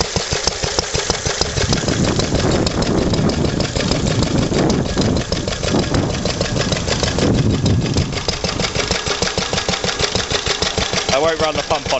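A Lister D diesel engine driving a pump under light load chugs steadily and loudly up close, its rhythmic knocking beat continuous for the whole stretch.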